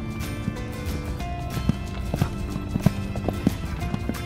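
A horse canters with rhythmic, repeated hoofbeats at a steady three-beat pace, fairly close, with faint background noise.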